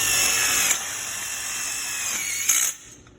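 A power drill whines steadily as it drives tek screws into swivels on a bleacher guardrail, one continuous high-pitched run with a brief surge near the end before it stops, close and loud.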